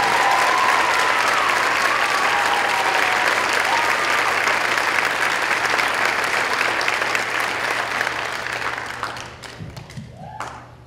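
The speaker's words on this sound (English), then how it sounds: "Give them a round of applause for Chance." Audience applause fills a school holiday concert for 7th and 8th graders, loud and steady clapping from a large crowd that tapers off near the end, with a few thumps as it fades.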